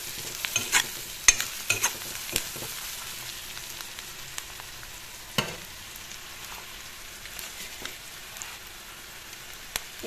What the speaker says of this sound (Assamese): এইখিনি অলপ লৰাই ল'ম।